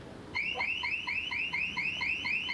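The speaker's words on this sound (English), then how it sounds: "the obvious way to avoid auto theft is to fit an alarm, but the accidental triggering of this can create seriously offensive noise pollution" A car alarm going off, its rapid repeating electronic whoop pulses cycling steadily and loudly after a brief quiet start, with no voices.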